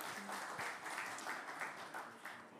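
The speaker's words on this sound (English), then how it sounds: "Can we give another hand of applause for our panelists?" Faint, distant applause from an audience honoring panelists at a Pacific regional gathering of the Local Communities and Indigenous Peoples Platform, a soft, steady rush of many clapping hands.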